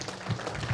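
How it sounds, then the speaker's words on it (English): A brief burst of applause at a faculty and staff in-service meeting, a crowd clapping steadily at moderate volume for under a second. "a quick round of applause for him"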